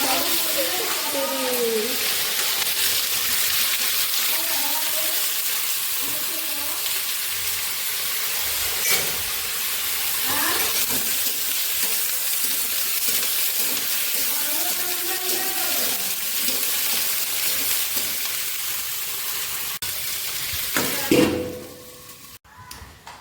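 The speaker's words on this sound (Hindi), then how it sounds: "तो इसमें दाल और देखो गरम हो गया है तेल" A steady sizzling hiss of dal frying in hot oil continues throughout, with someone talking intermittently over it.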